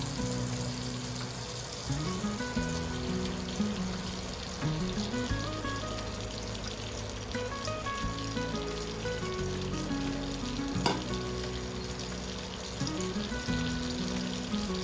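Butter and a little oil sizzle steadily in a pan while masala pav is prepared, a continuous close frying hiss with occasional stirring scrapes and no talking.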